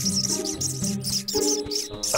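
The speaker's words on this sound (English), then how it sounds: "Hey, Briar, why do they keep chirping like that?" Cartoon baby birds chirp in quick, high, repeated bursts from a Boonie Bears kids' show, each burst short and evenly spaced, sitting over a steady background of tonal score.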